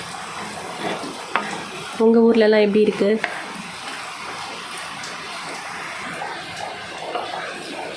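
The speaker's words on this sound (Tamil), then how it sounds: "வெளியில் மலையோட சவுண்ட் கேட்குதா?" Steady rain hisses outside a home kitchen while lunch is cooked, a continuous wash of noise throughout with a short tonal sound partway through and a faint voice.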